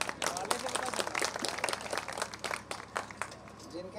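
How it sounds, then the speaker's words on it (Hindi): An audience at a Hindi comedy stage performance in Ayodhya claps in a brief, dense burst of moderately loud, uneven hand claps, with a voice speaking through the noise. "आप तो तालियां बजाएं एक बार।"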